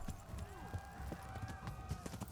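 Horse hooves galloping in Kingdom Come: Deliverance, a steady rhythmic clip-clop of a ridden horse at speed, moderately close, under a low game ambience with a faint voice.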